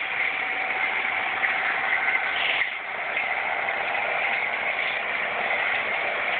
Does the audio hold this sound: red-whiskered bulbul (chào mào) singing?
no